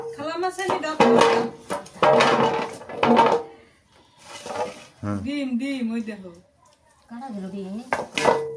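A large katla fish is cut with a blade, giving sharp metallic knocks and scraping strokes close by, mixed under loud, animated talk from several people.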